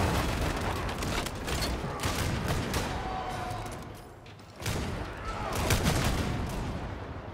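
Heavy bolt gun fire in Warhammer 40,000 Darktide, loud booming shots in quick bursts with mechanical clatter and a brief lull partway, close and dense, with no talking.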